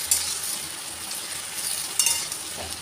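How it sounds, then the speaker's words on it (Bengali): Cauliflower florets and other vegetables fry in a pan, giving a steady close sizzle with a couple of faint clinks of a spoon against the pan and no talk. "এরপর দিয়ে দেবো ফুলকপিগুলো, একসাথে ভালো করে ভেজে নেবো।"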